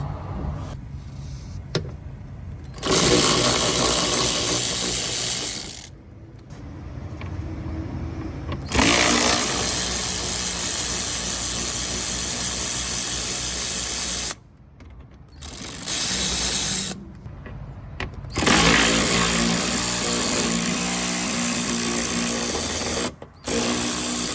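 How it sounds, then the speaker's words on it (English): A power tool loosens 10mm bolts on the front bumper cover of a 2010-2012 Lexus HS 250h, running in several loud, close bursts of a few seconds each, separated by brief pauses. "we are going to be loosening these 10mm bolts"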